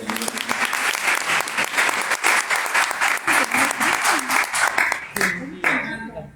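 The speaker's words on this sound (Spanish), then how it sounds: "Un aplauso para él." An audience at a university design faculty event applauds artist and designer Hernán Paganini, a lively patter of clapping with a voice briefly heard over it.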